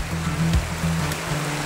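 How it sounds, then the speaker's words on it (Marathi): A hidden waterfall in Chiplun, in the Kokan region, pours in a steady broadband rush of falling water, close and continuous throughout, with a faint low rumble underneath and no voices. "हा बघ पत्या हा तो धबधबा"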